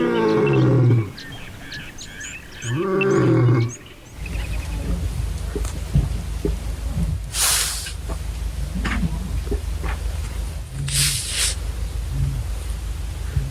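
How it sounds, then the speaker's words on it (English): Wild lions roar around a safari tent at dawn in Savuti, Chobe National Park, Botswana. Two loud, deep, close roaring bouts open the scene, followed by a low rumbling night ambience with scattered bird calls and insect hiss. "there are lions roaring all around me"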